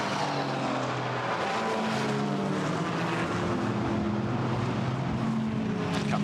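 Racing engine of a GT4 car, likely a Porsche Cayman, in qualifying at Monza, heading toward the second Lesmo bend. The drone is steady and loud, with a broad rumble, and it holds through the whole stretch with no talk.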